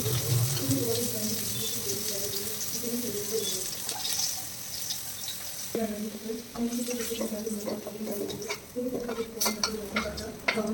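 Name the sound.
potatoes frying in a pan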